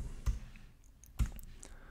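Two sharp mouse clicks in SketchUp on a computer, about a second apart, close and fairly quiet against a faint room hush, with no talking.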